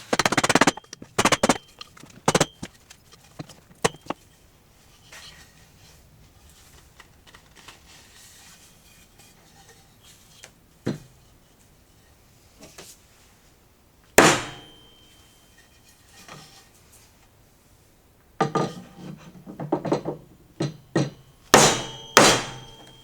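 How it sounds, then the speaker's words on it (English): A wooden mortise and tenon joint is hammered together, with sharp clustered blows at the start, a few scattered knocks through a quiet middle, then another burst of strikes near the end, all close and loud. "I'll take it off the table here and hammer it together"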